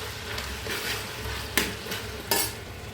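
Chicken for a Kerala-style country chicken curry sautés in a pan, a steady sizzle broken by two sharp scrapes of a utensil stirring against the metal, close and clear.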